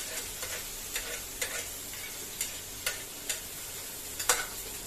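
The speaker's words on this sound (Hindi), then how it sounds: "और चॉप किए हुए प्याज लहसुन और मिर्चा को डाल रही हूँ।" Chopped onion, garlic and chilli frying with cumin in a pan give a faint, steady sizzle with light, irregular ticks and scrapes from stirring, quiet and close, with no talking.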